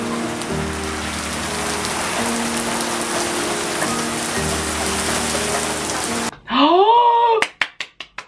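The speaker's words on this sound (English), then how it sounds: "it was raining and storming" Steady rain pours down during a storm with a constant hiss, then cuts to a few sharp, snapping hits and a swooping tone.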